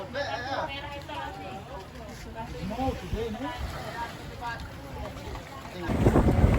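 A small boat carries surfers out to the waves off Kuta Lombok, its motor droning under wind buffeting the microphone and water noise, while a voice talks over it and a louder rush of spray comes near the end.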